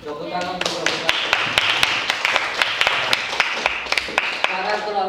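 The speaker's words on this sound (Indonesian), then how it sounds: "Tepuk tangan untuk kelompok 1." Classroom clapping for a student group in an Indonesian school, a sparse run of sharp, separate hand claps at an uneven rhythm, fairly close, over a soft murmur of voices.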